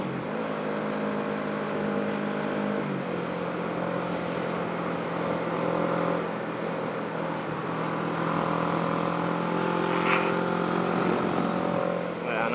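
A motorcycle rides on a racetrack, its engine a steady droning whine with pitch shifts as it changes gear, heard from onboard over constant wind noise.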